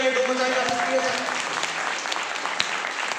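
A crowd applauds loudly at a business motivational seminar, a sustained dense wash of clapping that holds steady throughout, with a faint voice mixed in at the start.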